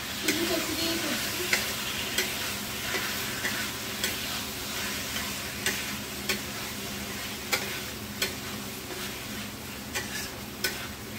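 Taro (kochu) pieces frying in a pan, a constant moderate sizzle with regular spatula scrapes and taps about every second or so.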